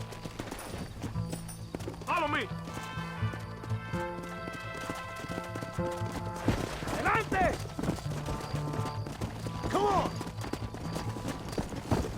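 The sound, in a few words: horses galloping in video game Red Dead Redemption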